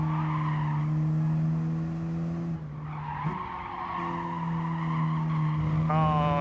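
Tires squeal in a long sustained skid as a car brakes hard in the racing game Gran Turismo Sport, the engine droning underneath, briefly dropping, then the screech resuming loud and close.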